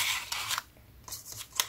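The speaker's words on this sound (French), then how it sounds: "je pense qu'on va la couper en biais." Scissors snip diagonally through paper for a Christmas envelope album, a few close, crisp cuts with a short pause in the middle.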